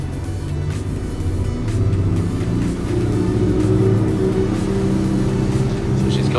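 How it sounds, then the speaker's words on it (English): The engines of a Jeanneau Merry Fisher 1295 motor boat are opened up on a trip to Dartmouth, giving a loud, steady, deep droning rumble that builds slightly and holds throughout. "we have reached that time where we can open up the engines"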